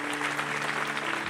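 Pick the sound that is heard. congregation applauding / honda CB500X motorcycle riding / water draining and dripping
congregation applauding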